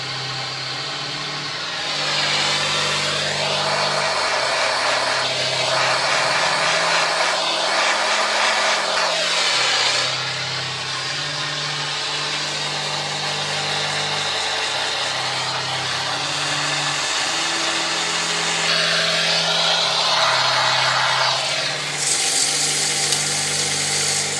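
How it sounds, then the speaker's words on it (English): A blowtorch plays over a sapele wood bowl on a lathe, a loud, continuous roaring hiss that swells and dips in long passes over a low mechanical hum. "Same as before with the blowtorch."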